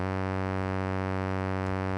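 Cosmotronic Delta-V mk2 synth module in LFO mode produces a steady, buzzy sustained tone, constant in pitch and level, close and alone.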